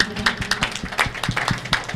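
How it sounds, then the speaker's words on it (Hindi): A church congregation clapping loudly in thanks to the Lord, quick uneven hand claps overlapping in a brief close burst, with no talk. "इसे जोर से ताली बजा के प्रभु का धन्यवाद करें"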